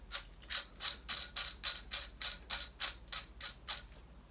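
Ratcheting clicks from a castle nut being screwed onto an AR15 buffer tube on an M70 rifle with a TDI stock adapter, about a dozen evenly spaced crisp ticks, close and fairly quiet, with no talking.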